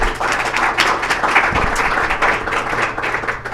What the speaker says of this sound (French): Merci beaucoup, on peut les applaudir.